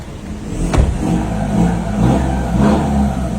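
A remapped Ford Ranger pickup engine accelerating, a loud, close, low rumbling drone that rises and swells twice over a few seconds, with a brief clatter near the start.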